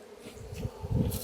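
A bee swarm being poured out before a hive entrance buzzes in a loud, low drone that swells and surges, with rustling bursts as a mass of insects tumbles out.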